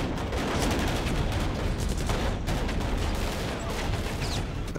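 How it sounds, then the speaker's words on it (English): Dense bursts of distant gunfire and tracer rounds crackle continuously during a battle in Iraq, with rapid overlapping shots forming a steady fusillade. "Gunfire, tracer rounds going off."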